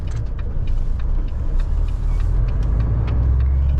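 A car pulls out into traffic on a road near Vinnytsia with a steady, loud engine and road rumble. Faint clicks and ticks run through it, and there is no talking.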